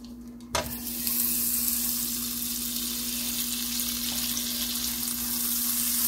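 Six lamb chops go into a pan of butter with a sharp hit, then a loud continuous sizzle and crackle of frying carries on steadily, close up and without talk.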